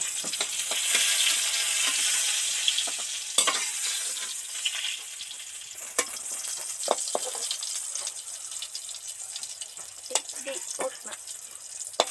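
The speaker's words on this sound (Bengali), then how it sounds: "পটল ভাজা হয়ে গেছে উঠিয়ে নিচ্ছি" Fried pointed gourd being lifted out of a pan of oil, a softening sizzle broken by sharp clicks and scrapes of the utensil against the pan, close and fairly loud.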